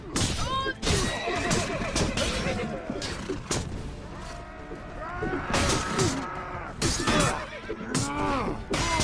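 A horse whinnies repeatedly amid a busy Mount & Blade: Warband (A Clash of Kings mod) battle soundscape, with loud crashes and impacts breaking in throughout.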